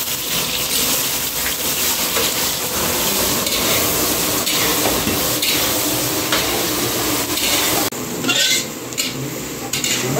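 Onions hit hot oil with whole garam masala and dried red chillies in a pan for a chicken roast, giving a loud, dense, continuous sizzle with stirring scrapes near and clear, dipping briefly toward the end.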